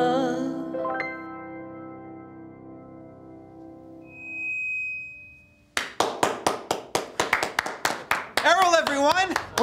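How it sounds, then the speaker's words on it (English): Someone claps rapidly and steadily at close range right after sustained musical tones end. A voice cuts in over the final claps. "I heard someone clapping"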